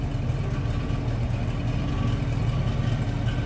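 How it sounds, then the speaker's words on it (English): Steady low exhaust rumble from a 1969 Ford Torino GT fastback's 351 V8, idling close by at an even, continuous level with no talk. "Nice little rumble out of that 351."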